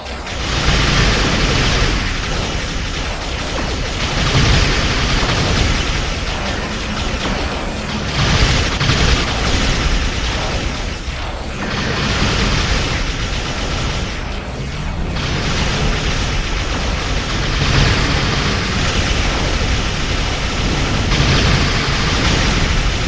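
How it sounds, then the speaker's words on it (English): Heavy explosions and booming blasts pile up continuously at close range, loud and dense with rumbling bursts and crackles, no talk heard. "Watch out for those explosions."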